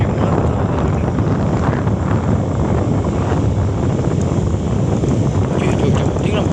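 A motorbike rides through the night, its steady engine rumble buried under constant, loud, buffeting wind noise that lasts throughout with no break.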